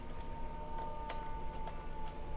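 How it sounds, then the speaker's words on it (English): Emergency sirens sound outside a Brooklyn apartment, a steady wailing tone heard faintly through the room, continuous and alone without talk. "Sorry for the sirens."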